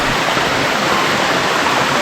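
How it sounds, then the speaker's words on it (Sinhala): A jungle waterfall on a hike in Sri Lanka roars close by as a dense, steady rush of falling water with no break. "මේ පේන්නේ දෙවෙනි දියැල."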